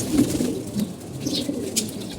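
Kulara pigeons cooing in a loft, a low repeated murmuring coo close by with a few soft wing flutters and brief higher chirps.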